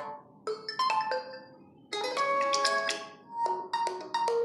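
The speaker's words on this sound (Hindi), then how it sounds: "जैसे कि आप देख सकते हैं, मेरे पास" Ringtone from a Realme 7i phone: bright synthetic tones in short rising and falling phrases, a pause, then a longer, louder run of chiming notes, clear and close with no talking.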